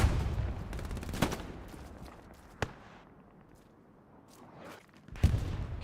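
Rifle gunfire in a multiplayer shooter match: sharp scattered shots cracking out at intervals against a rumbling battlefield background, some close and loud, others more distant.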